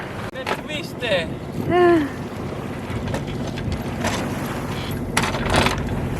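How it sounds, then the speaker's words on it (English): Wind buffets the microphone aboard a sailboat at sea in a heat wave, crossing from Sicily to Sardinia, a steady rushing wash with brief rising tonal sounds near the start and people talking over it. "The wind is here!"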